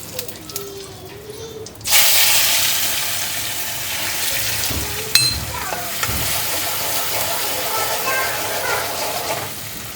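Curry leaves hit hot oil for a tadka, bursting into a loud, sudden sizzle after a quiet start, then crackling steadily with a sharp pop and faint background sounds.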